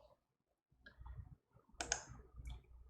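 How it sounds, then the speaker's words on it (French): A few light clicks, most clearly one sharp click partway through, over low background rumble while selecting a film in the Kodi media center. "il vous suffit de cliquer sur le film en question pour qu'il se lance"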